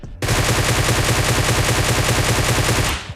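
Rapid automatic gunfire from the mobile battle-royale game PUBG Mobile rattles in one loud, unbroken burst lasting about three seconds, with no voice over it.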